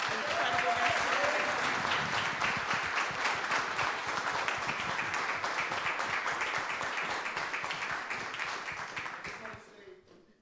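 A forum audience claps at the close of an arts event on Afrofuturism, a steady, dense round of applause lasting nearly ten seconds before thinning and dying away.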